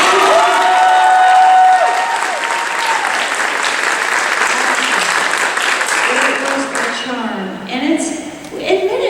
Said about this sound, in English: we can take a round of applause for the 3 gentlemen in this room